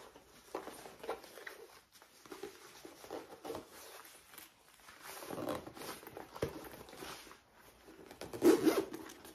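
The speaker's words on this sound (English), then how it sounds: "let's zip her up" A zipper is pulled closed around a small sewn fold-and-zip petite backpack, with repeated close rasping zips and fabric rustle, louder near the end.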